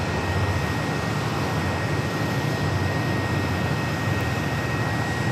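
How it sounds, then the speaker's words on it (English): An American Airlines A321 airliner arrives at Phoenix Sky Harbor airport, a steady broadband jet roar with a faint whine, continuous and fairly loud with no pauses. "A321 coming in from Ontario, California, American, 3016."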